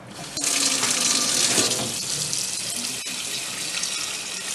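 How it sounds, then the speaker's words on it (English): Tap water runs steadily into a pot for saltfish in a home kitchen, a continuous close splashing hiss that holds for several seconds at even strength. "and pour water in it"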